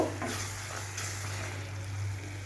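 Chicken cooking in a pan with a pinch of sugar is stirred through, giving a soft continuous sizzle and faint scraping, fairly quiet and close over a low hum, with no talking.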